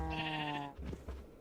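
A sheep in the TerraFirmaCraft game gives one close, clear bleat, followed by a few soft thumps and shuffling noises.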